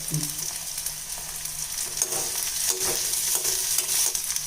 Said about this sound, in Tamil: வெந்தயம்மா வரமிளகா வெங்காயம் பூண்டு போடுறேங்கம்மா